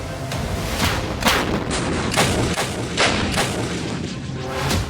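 DRDO artillery gun systems, the Mounted Gun System and the Advanced Towed Artillery Gun System, fire heavy rounds in a string of loud booming blasts with rumbling tails, several shots following in close, irregular succession.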